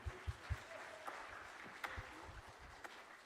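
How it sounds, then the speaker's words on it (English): A small audience claps for a student jazz band at an afternoon concert, a faint, distant patter of applause with a few low thumps, heard without talk. "So how about a round of applause for the students?"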